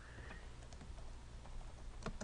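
Typing on a computer keyboard: soft, irregular key clicks in quick bursts, faint and close, over a steady background hum.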